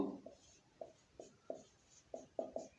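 Pen strokes on paper or a board while noting down grammar examples: a quiet series of short, scratchy strokes in an irregular rhythm, about eight of them, close by with no voice.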